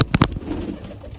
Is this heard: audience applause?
no